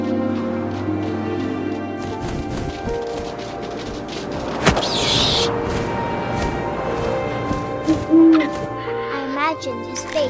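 An owl hooting in the game What Remains of Edith Finch, low repeated hoots that are fairly loud and carry over soft wind ambience, with a thud partway through.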